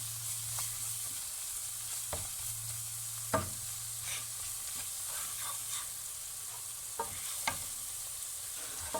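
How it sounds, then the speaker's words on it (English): Onion and spices roasting in a pan for lamb curry, a soft sizzle broken by intermittent stirring scrapes and clinks of the spoon against the pot. "Kids, remember to keep on stirring the pot so that it doesn't burn the spice."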